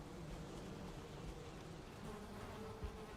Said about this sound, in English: It's so funny that the bees are like totally fine with this space here.